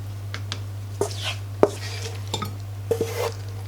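A cooked pigeon roast is scooped from the pan into a serving dish with metal utensils, giving a handful of sharp clinks and scrapes spread over a few seconds above a steady low hum.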